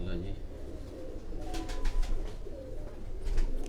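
Pigeons coo softly in a loft, low murmuring calls recurring under nearby talking and some rustling.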